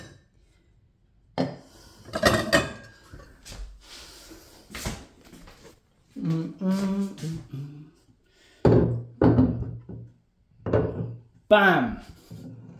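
Ceramic bowls knocking and clattering as they are picked up and set down, several short sharp clinks and knocks at irregular intervals, close by, with a person talking between them.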